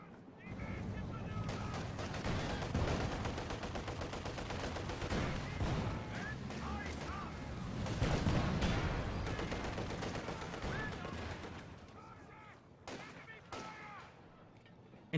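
Gunfire and artillery from a Company of Heroes 2 battle sound as repeated sharp shots and bursts with heavier booming impacts over a dense mix of combat noise, while a commentator talks throughout.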